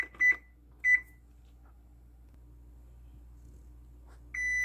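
Oven control panel beeps twice in quick succession while a two-minute timer is set, then a longer beep follows after a quiet pause, with a faint hum in between.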